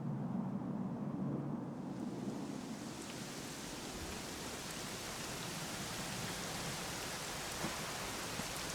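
Steady rain falling in the Dragon Quest XI S: Echoes of an Elusive Age video game, a soft continuous hiss with a low rumble fading early on, faint and unbroken throughout.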